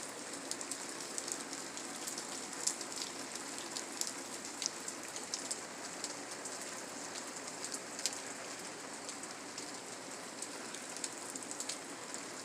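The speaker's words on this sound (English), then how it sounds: "But yep, it's still raining" Steady rain falling on a surface on an August morning, a continuous soft hiss dotted with scattered sharp drop ticks, moderately quiet and with no voices.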